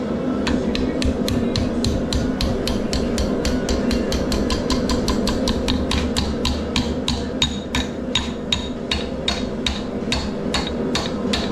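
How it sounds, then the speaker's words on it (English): Rapid, evenly spaced hammer blows ring out on steel at an anvil while forging a fireplace brush, loud and close, continuing steadily over a low background hum. "Work my way around dragging my hammer blows"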